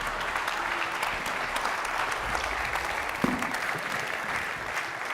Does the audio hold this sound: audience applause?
yes